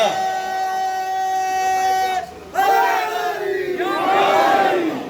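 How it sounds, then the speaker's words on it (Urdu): A packed crowd at a Muharram majlis chants a slogan in unison, starting with one long sustained loud voice, then surging bursts of many voices shouting together, close and reverberant. "اتنا خوبصورت نعرہ لگایا بھرے ہوئے مجمع میں"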